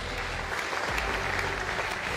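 Applause from an awards-ceremony crowd honoring a va'a (outrigger canoe) world champion, steady and fairly close, filling the whole short stretch without talk.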